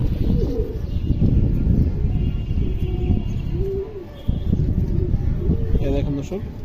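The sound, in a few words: Indian high-flyer pigeons cooing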